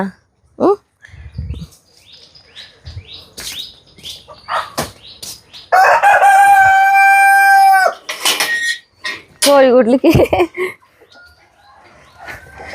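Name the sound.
chickens clucking and rooster crowing near a coop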